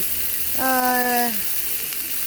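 Fried rice with cabbage, onion and celery sizzles steadily in a pan, a continuous hiss throughout, with a brief tonal hum rising over it midway.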